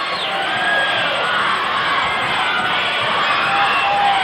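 A wrestling arena crowd roars for Andre the Giant at a Portland Wrestling match, a loud sustained wash of cheering and shouting with no break.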